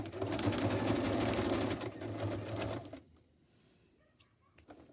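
A home sewing machine running a zigzag stitch over fabric scraps for embellishments, a fast continuous mechanical whirr for about three seconds, then it stops, leaving a few faint clicks and near-silence.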